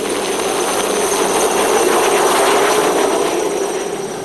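A helicopter carries ski instructors toward a remote high glacier, its loud, steady rotor and engine roar holding close and constant throughout with no voices.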